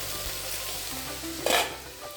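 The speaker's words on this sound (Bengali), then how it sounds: "এখানে নিম বেগুনটা ভাজা হচ্ছে" Eggplant slices frying in hot oil in a pan while neem leaves have already been fried in a home kitchen, a steady soft sizzle with stirring and one brief louder scrape near the middle.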